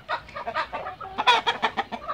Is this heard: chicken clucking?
yes